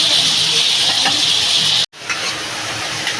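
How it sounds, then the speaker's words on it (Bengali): Tomato pieces frying in a pan for a fish and green tomato chutney give a loud, steady close-up sizzle and hiss, briefly cut off by a short gap before the sizzling resumes slightly quieter. "আমি টমাটোটা এরকম ভেজে দেবো।"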